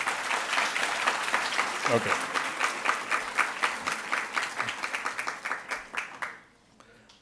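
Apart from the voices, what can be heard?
audience applause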